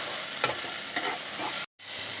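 A spoon scrapes through fried potatoes and spice masala in a sizzling pan, with a few distinct stirring strokes over a constant frying hiss and a brief gap of silence near the end.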